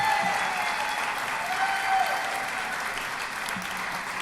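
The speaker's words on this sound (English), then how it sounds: "Can we have another round of applause for our outstanding band?" An audience at an education summit opening applauds the high school band, a dense, even wash of clapping from a large crowd that holds steady for the whole stretch with no talk over it.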